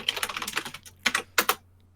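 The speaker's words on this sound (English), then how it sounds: "typing" Quick clicking keystrokes on a computer keyboard come in an uneven burst and then a few separate, sharper taps, close and dry over a faint hum.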